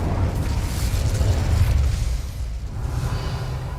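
Casting the Incendio fire spell in Hogwarts Legacy unleashes a loud, sustained roaring whoosh of flame with a heavy low rumble, fading slightly toward the end.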